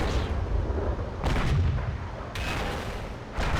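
Artillery fire in the tank game World of Tanks booms in repeated heavy blasts about every second, each a loud burst with lingering low rumble.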